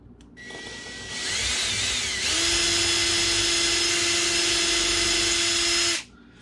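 A power drill whirs up, pitch rising, then grinds steadily at a high whine for several seconds boring a hole in a Collings C100 Deluxe guitar before abruptly stopping; close and loud, no talking.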